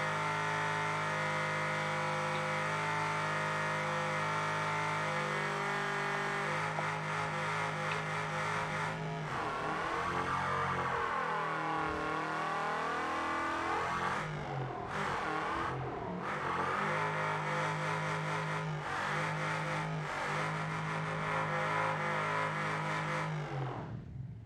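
A naturally aspirated V8 in a Holden Commodore VN revs hard and accelerates, loud and close, its pitch sweeping up and down through gear changes over a long sustained run with no talk.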